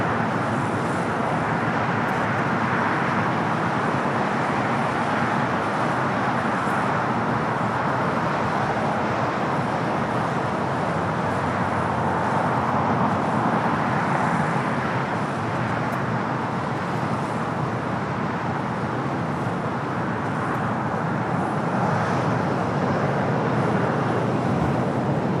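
A Delta airliner arriving at LAX from Tokyo Haneda roars steadily overhead, a loud broadband jet rumble holding for the full length with traffic noise blended underneath.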